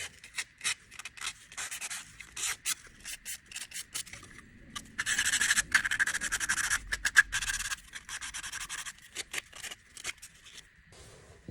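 Sandpaper rubs over the small wooden parts of a miniature vanity table kit in short, soft strokes. The strokes come in scattered bursts, then in a denser, steadier run midway, with no voices.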